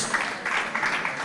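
A conference audience bursts into applause, a brief dense patter of many clapping hands at steady loudness with no voices over it.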